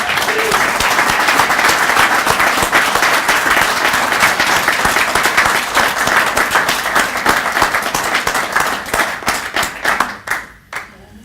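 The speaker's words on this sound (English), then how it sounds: "How about another round of applause?" A sustained round of applause from an audience at a press conference, dense steady clapping near and loud for about ten seconds before thinning out and fading at the end.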